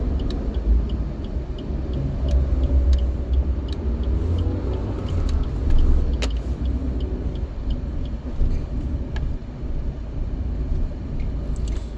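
Dense street traffic heavy with motorcycles and jeeps rumbles past nearby, a steady low roar of engines with scattered light ticks and clicks, no voices.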